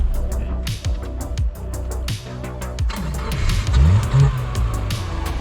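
A rusty Subaru STI on a test run, its engine droning and rising in pitch beneath rattling cabin clunks and bumps, with the loudest surges toward the end.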